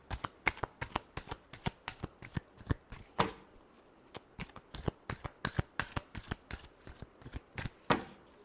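Tarot cards being shuffled by hand in quick, crisp riffling bursts, close and steady for several seconds with a short pause midway, quiet and without speech.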